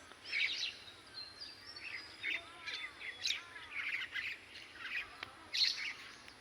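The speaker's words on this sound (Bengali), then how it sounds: "কি চমৎকার পাখিগুলো নানা মিলে আকাশে উঠছে" Mynas, magpie robins and egrets call on a morning with light wind, giving a series of distant chirps and squawks in short bursts, fairly faint over a quiet background.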